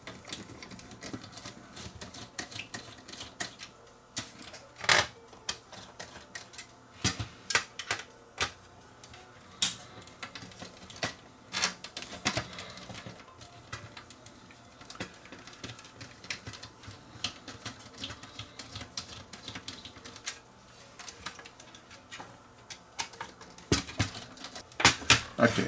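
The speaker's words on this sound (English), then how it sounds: "let's remove these two screws at the back here" Small screws being backed out of a broken Denon CD recorder, a steady run of faint clicks and ticks close up, with sharper metallic taps and knocks scattered throughout and no talk.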